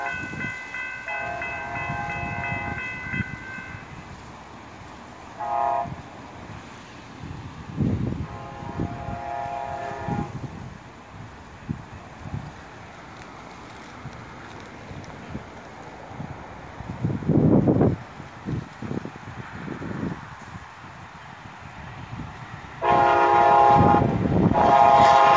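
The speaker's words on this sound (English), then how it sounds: "Hottest train in South Florida right now." A Brightline passenger train in South Florida rumbles past at a distance while its horn sounds in several long blasts, the last one loud and close as the train nears.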